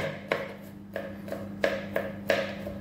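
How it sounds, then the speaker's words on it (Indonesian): Knife on a cutting board coarsely chopping crushed garlic cloves, a series of about seven distinct chops at an uneven, unhurried pace, close and moderately loud with nothing else heard. "Kemudian aku mau geprek dulu, kemudian dicincang kasar aja, yang nggak usah terlalu lembut."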